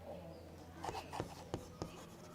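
Pen handwriting words on paper, quiet scratchy strokes in four short bursts, close and faint, with no talking.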